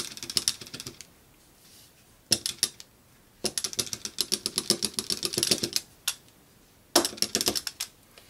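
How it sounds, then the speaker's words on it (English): A rubber brayer bounces repeatedly along cardstock, giving bursts of quick, close tapping and rattling clicks separated by short pauses, with no talking. "just bounce your brayer along, moving the cardstock as you go"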